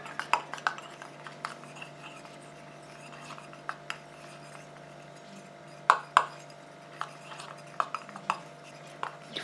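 A hand cream emulsion with magnesium stearate is stirred in a bowl, producing soft scraping with scattered sharp clinks and taps of the utensil against the container, set against a low steady hum and no speech.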